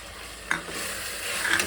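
Tomato fries in a pan with ginger garlic paste for rice bath: a close, soft sizzle runs throughout while a spoon stirs with brief scraping strokes.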